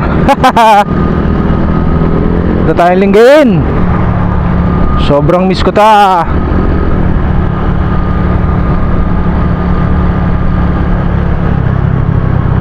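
A borrowed Suzuki motorcycle rides at night in Lingayen, Pangasinan, its engine and wind roaring steadily up close, with a rider's excited voice breaking in several times over the drone.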